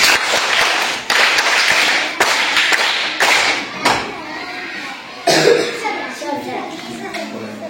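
Schoolchildren at a primary school quiz clap together in several loud bursts of applause with short pauses between them, and a voice speaks over the later part.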